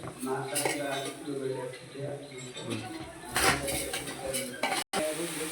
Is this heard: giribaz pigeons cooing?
no